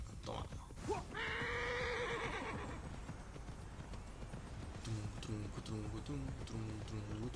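A horse in the video game Immortals Fenyx Rising gives a loud whinny, then its hooves clip-clop in a steady galloping rhythm, with faint background game sounds and someone talking in places.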